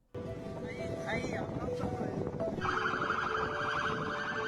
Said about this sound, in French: Toutes les voitures klaxonnent pour l'encourager.